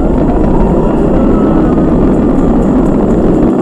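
A SpaceX Falcon 9 rocket's engines roar during a crewed launch, going supersonic, as a loud, dense, unbroken broadband rumble that holds steady throughout.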